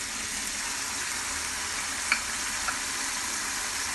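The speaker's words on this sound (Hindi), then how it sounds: "इसकी 1 मिनट हम इसके साथ भुनाई करेंगे ताकि जो इसका कच्चापन है वो ख़त्म हो जाए।" Onions frying in a pan with a spoonful of ginger, garlic and green chili paste for a mutton kofta curry, a steady close hiss and sizzle with a couple of faint stirring clicks and no talking.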